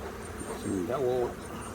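Honeybees buzzing near the microphone during a beehive inspection, a brief wavering drone that swells and dips over soft background noise, with no talking.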